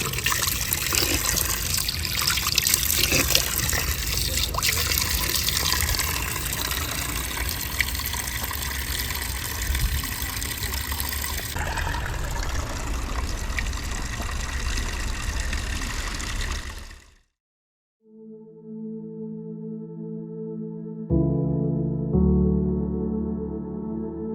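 Mineral spring water runs steadily from the outlet at St Ann's Well in Buxton, a continuous splashing flow for most of the stretch that cuts out briefly, followed by a quieter tonal section.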